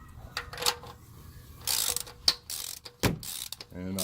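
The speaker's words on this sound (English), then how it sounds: "So I'm going to use my socket wrench again." A socket wrench ratchets while tightening an oil drain plug with an O-ring: irregular short metallic clicking bursts, close up, with some handling clatter and a few bright knocks between them.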